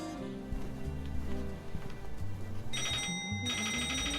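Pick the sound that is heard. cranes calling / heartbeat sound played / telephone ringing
telephone ringing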